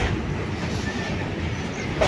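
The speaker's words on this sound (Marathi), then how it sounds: "वरतून रेल्वे जाते आहे" A train rolls across a railway bridge overhead near the Kanhan river ghat in Kamptee, a steady broadband rumble that holds evenly through the whole stretch, loud and continuous with no clear pauses.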